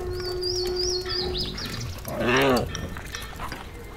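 Birds chirp with thin, high whistling trills and rising and falling calls over a soft background ambience, followed by a louder, brief warbling cry.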